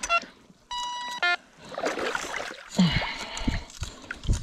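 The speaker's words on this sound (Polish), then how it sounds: "Tu mamy jakiś taki niepewny sygnał" Quest Q30 metal detector gives a short burst of electronic tones near the start while someone searches for coins, followed by rustling and scraping of digging close by.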